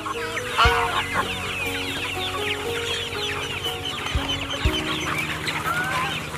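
Chickens clucking at feeding time: several hens cluck and chatter busily all around at close range, with a few sharp knocks and thumps breaking through the steady clamor.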